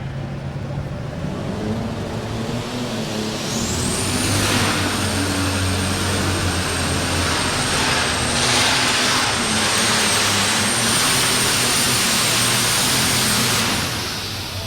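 An alcohol-fueled super stock pulling tractor's engine roars loudly with a high, sustained turbo whine as its tires spin at a tractor pull. It holds for about ten seconds, then eases off.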